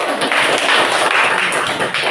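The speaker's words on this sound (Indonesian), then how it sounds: "Tepuk tangan dulu." Classroom applause, a continuous patter of hand clapping from students that holds steady for a couple of seconds and fades slightly at the end.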